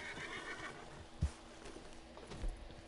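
A horse whinnies twice in the Red Dead Online video game, short loud neighs standing out over a steady hum of in-game ambience.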